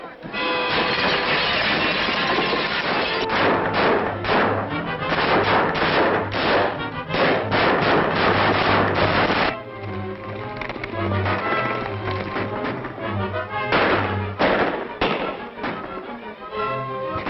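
Rapid volleys of gunshots ring out during a 1936 western chase, loud sharp cracks repeating in dense bursts over galloping hooves and rumbling movement, with brief pauses between clusters.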